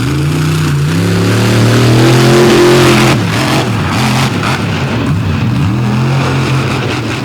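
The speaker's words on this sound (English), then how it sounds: "he wheels this awesome 82 Chevy around the track here in" A 1982 Chevy drag truck at an outlaw monster truck drag event in Canfield revs its engine loudly and close, the pitch rising and falling in long surges.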